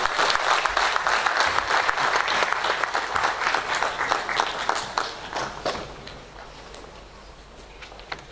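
An audience at a tax education seminar gives a round of applause for the Commissioner General, loud, dense clapping that gradually thins into scattered claps and fades by the end.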